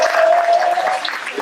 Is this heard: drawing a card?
no